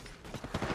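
Rapid bursts of gunfire from the Warzone Mobile video game, a dense crackling volley heard fairly quietly over a short stretch.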